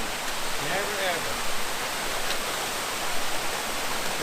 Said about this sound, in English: That's a pretty little waterfall.